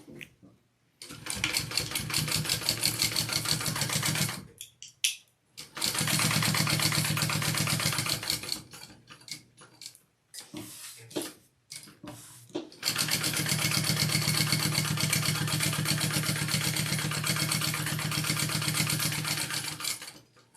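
A sewing machine runs in three long stitching bursts, basting down the sides of a handbag, a steady mechanical whir with short pauses and brief stops between runs, moderately quiet and alone.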